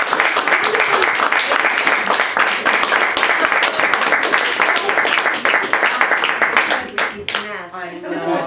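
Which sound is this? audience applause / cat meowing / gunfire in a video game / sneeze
audience applause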